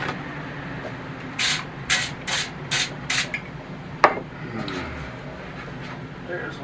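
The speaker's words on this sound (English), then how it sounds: "I'm gonna spray this." Cooking oil sprayed into an air fryer in five quick hissing bursts, followed by a clunk and light handling noises against a steady background hum.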